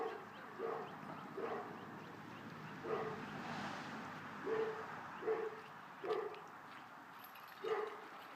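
A dog barks repeatedly in an outdoor setting where horses are worked for logging, single medium-pitched woofs at irregular intervals about a second apart, moderately distant over a faint background hiss.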